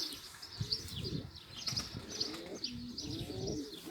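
Pigeons coo softly in low, rolling murmurs, with faint higher chirps and occasional wing flutters, fairly quiet and close.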